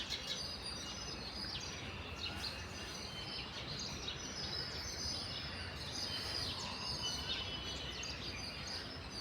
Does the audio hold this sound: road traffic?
no